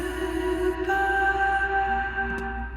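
A sung vocal drenched in heavy reverb and tape delay, with long sustained tones smearing into a wide wet wash, sitting loud and continuous throughout.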